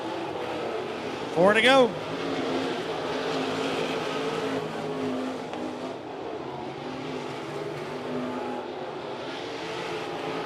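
Short-track race cars, the 22 and the 31H among 305 class cars, roar down the back straightaway at Kin, one engine swelling loudly as it passes close over a steady field drone, with an announcer talking throughout.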